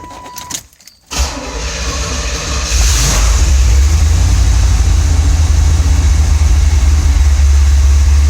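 A 1984 Chevrolet Corvette C4 cranks and starts, its engine catching after a brief pause and settling into a loud, steady idle with a deep continuous rumble, heard close.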